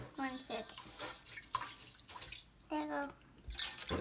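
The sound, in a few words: dumping water off rice while cooking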